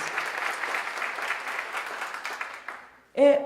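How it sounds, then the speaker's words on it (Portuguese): Applause from an event audience in Belo Horizonte, a dense steady clatter of many hands that gradually fades, followed by a brief burst of a voice at the end. "pedir uma salva de palmas para o Mais Que Um"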